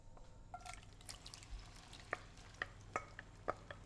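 Frittata egg mixture poured into a pan with a little olive oil, a quiet bubbling sizzle with scattered sharp pops and ticks growing more frequent toward the end.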